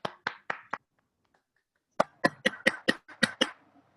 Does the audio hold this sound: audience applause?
yes